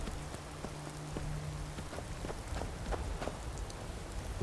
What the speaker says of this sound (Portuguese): Tô chovendo pra caramba.